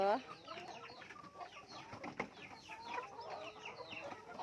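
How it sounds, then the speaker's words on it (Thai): A hen clucks in repeated short, rising calls before laying an egg, fairly close and moderately loud, with a person speaking softly nearby. "ก้อยก้อยก้อยก้อยก้อยจะไข่แล้วเหรอ"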